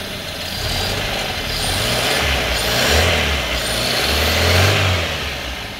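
A Toyota Corolla engine with smoky exhaust, after a valve seal replacement, idles loudly and steadily nearby, its low rumble rising and falling slightly as it warms up.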